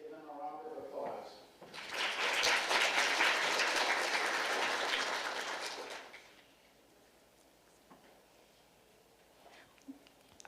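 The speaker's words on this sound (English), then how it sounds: "Let's give them a round of applause." A crowd at a community festival ambassador coronation breaks into a round of applause that swells for about four seconds and then fades, with faint talk before it starts and after it ends.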